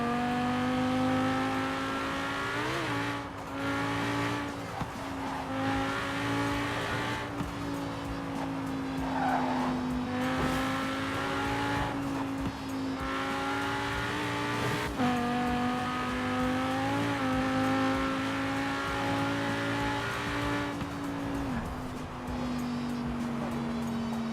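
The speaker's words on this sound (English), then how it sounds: "here's the engine sounds." An Aston Martin Vantage engine in Forza Horizon drones steadily and loudly, its pitch rising and dipping as it revs and shifts, with occasional tire squeal.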